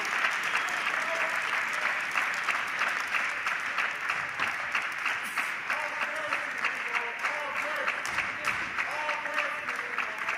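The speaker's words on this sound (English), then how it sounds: "the German fans making themselves heard in the crowd" German fans in a world championship table tennis crowd clap and cheer in a steady, dense wave of applause that holds at even strength, with a faint voice underneath.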